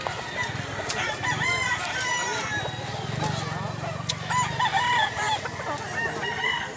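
A bullstag chicken at a farm in Mantalungon, Cebu, crows several times, each call a drawn-out cock-a-doodle-doo, over a busy background of other fowl and distant voices.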